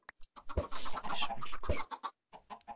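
Chickens cluck in Minecraft, a run of short, choppy clucks at moderate level with a couple of deeper thumps mixed in, ending with a few scattered clucks after a brief pause.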